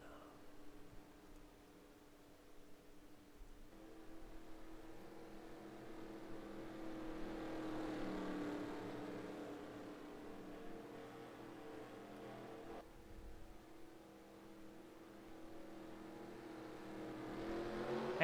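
Racing trucks accelerate off the green flag on a half-mile Portland oval, a faint engine drone that swells and climbs in pitch over several seconds, then eases off before picking up again.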